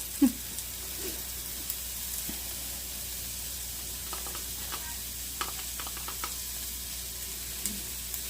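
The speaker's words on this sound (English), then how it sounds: "Our oregano is 1 teaspoon. And we're just going to stir it in." Chicken cooking in a pan for Marry Me Chicken as a teaspoon of oregano is stirred in, a soft constant sizzle with scattered scraping and clicking utensil sounds, close but quiet, with no talking.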